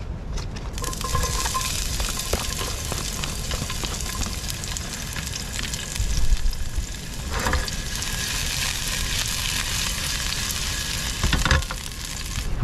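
Mussels sizzling in hot extra virgin olive oil in a pan at an outdoor camp cook by the rocks in South Africa, a loud constant close crackle and hiss with a few stirring clatters, no talk.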